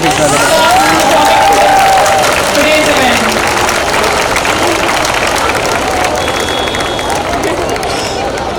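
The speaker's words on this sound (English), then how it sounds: "May we have a big round of applause for the young" Spectators at a school's annual sports day give a loud round of applause and cheering amid crowd murmur, while an announcer speaks over the clapping as it gradually fades.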